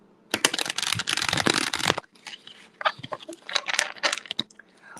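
Two packs of playing cards shuffled up close: a dense two-second riffle burst, then a run of looser flicks and shuffling clatter, with no talk.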